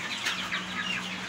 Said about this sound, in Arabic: يعني انا عندي ديك